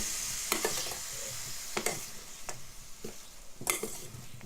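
Lamb with garlic ginger paste and dried spices is stirred and fried in a pan for rogan josh: a steady sizzle, broken every second or so by scraping strokes of the spoon, close and without talk.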